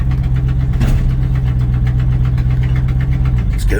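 A 1984 Chevrolet C10 pickup truck engine idles steadily after a cold start, a loud, continuous low rumble with a slight uneven pulse, close by with no talking.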